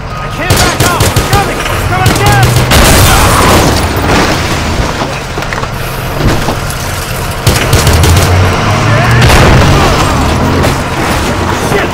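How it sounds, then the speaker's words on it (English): Gunfire in the video game Battlefield Hardline: dense, loud bursts of shots and booming explosions run through the whole stretch, with a voice speaking over the battle noise. "Can you shoot this guy?"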